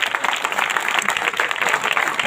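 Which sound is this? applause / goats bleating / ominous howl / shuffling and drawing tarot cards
applause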